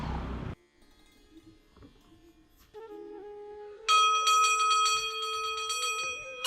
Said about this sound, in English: all around are the sounds of temple bells and the aroma of incense